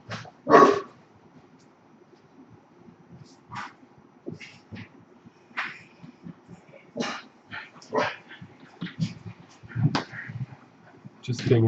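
A guard dog barks and whimpers in short, scattered yips and whines, moderately close, with quieter background speech in a room.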